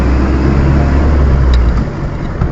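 A 1937 Austin 7 Ruby Saloon drives along, its small engine giving a loud, steady low drone from inside the car that eases off slightly near the end.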